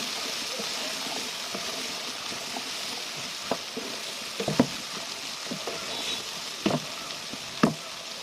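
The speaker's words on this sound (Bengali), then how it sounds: "মশলা কষানো হয়ে গেছে আমি আর একটু নাড়াচাড়া করে ঢেকে দিব" Vegetables and spices sizzle steadily in a pan for a vegetable khichuri, with a broad frying hiss throughout and several louder clanks and scrapes as the mixture is stirred, no voices.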